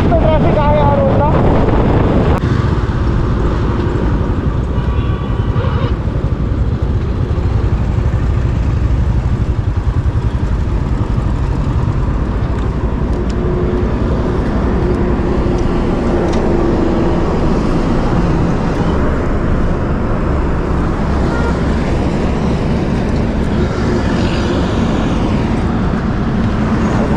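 A motorbike cruising at 80–90 km/h on a busy highway during a long ride to the Rann of Kutch, heard as a constant loud roar of wind buffeting over low engine rumble, with a voice partly buried beneath it.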